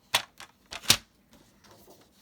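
A Stampin' Up paper trimmer slices Whisper White card stock to 3.5 by 5.5, giving a few sharp, close clicks and short scraping snaps in an uneven rhythm with quiet gaps between.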